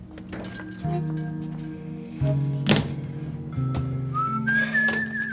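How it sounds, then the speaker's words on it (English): A man whistles a tune with sustained and sliding notes, while clinks and thunks of objects being handled sound nearby. "Chuck has pep in his step and is happily whistling."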